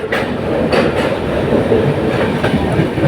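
The Padatik Express rolls toward Dakshineswar station, its wheels clattering loudly and steadily over the rails, with repeated clickety-clack beats and a continuous rumble.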